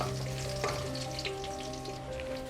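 Cashews and green chillies sauté in hot oil in a pan, giving a steady close sizzle with a few soft stirring knocks and no voices.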